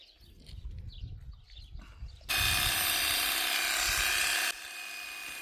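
Electric sheep shears buzzing on a sheep's legs at an animal sanctuary, a loud steady high whine that starts abruptly after quiet handling noises, runs for about two seconds, then drops to a softer hum.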